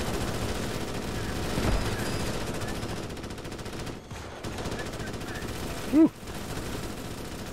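Rapid automatic gunfire from the bug-shooting video game Starship Troopers: Extermination rattles in dense, continuous bursts, loud and close. There is a brief pause and one sharp blast, and a player lets out a short breathy exclamation.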